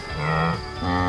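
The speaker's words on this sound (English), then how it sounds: "make a sound that's like a moo and a grunt" A large animal gives a short, deep, moo-like call that ends in a grunt, two close voiced bursts, loud and near, with no speech.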